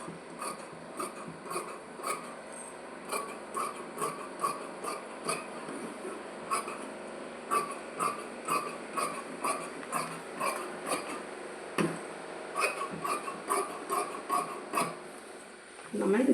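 Scissors cut through saree fabric pieces in a quiet, regular run of crisp snips, roughly two per second, with faint background sounds between cuts.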